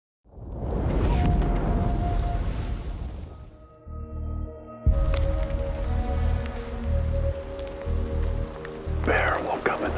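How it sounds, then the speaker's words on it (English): Steady rain pattering down through a Siberian forest at night, a dense continuous hiss of drops close around, with brief rustling movements and faint muffled sounds underneath. "With the rains pattering down around us, you can't hear anything."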